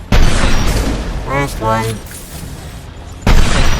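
Sniper rifle shots from the video game Mass Effect 2 boom loudly and close, one at the start and another near the end, with someone talking briefly in between.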